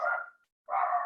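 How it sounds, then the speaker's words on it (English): Small dogs bark out on a patio in two short, bright bursts separated by a brief silence, moderately loud and somewhat close. "If everyone can hear my dogs barking like small menaces on the patio"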